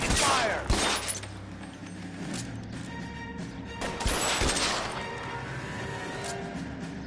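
Gunfire in the video game L.A. Noire: a loud sustained volley of shots with crashing impacts and bursts over a steady game backdrop, with a voice briefly heard.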